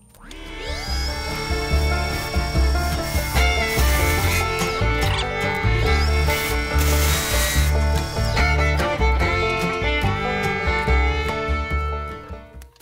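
A wood lathe spins a cherry candle holder while a gouge bevels its top end, producing a loud continuous whirring hum with shifting high-pitched cutting whine and scraping as the tool bites the wood, no talk heard.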